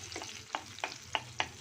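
Garlic cooks in melted butter over low heat, giving a soft, quiet sizzle broken by several light scraping strokes of a spoon stirring the pan.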